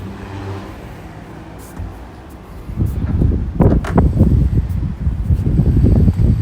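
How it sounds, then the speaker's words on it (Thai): Wind buffeting a microphone aboard a 40 ft fishing boat, soft gusts at first, then strong irregular bursts of blustery wind noise growing louder toward the end. "ลมโก่งเย็นสบายเลยครับ"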